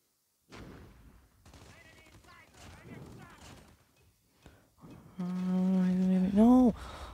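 Rapid bursts of gunfire from a first-person shooter video game, firing in short clustered volleys with louder shots near the end, mixed with the player's voice and game sounds.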